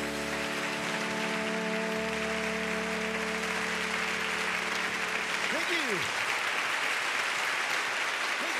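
Studio audience applause at the end of a song on a music variety show, a steady wash of clapping that begins as the band's final held chord dies out, with a voice briefly over it.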